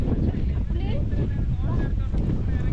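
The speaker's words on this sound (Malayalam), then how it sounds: "നന്നായിട്ട് കാറ്റ് അടിക്കുന്നുണ്ട് തണുത്ത കാറ്റ്" Strong, cold wind buffets the microphone with a constant low roar and rumble on the Ponmudi hills near Trivandrum, with faint voices of a crowd in the background.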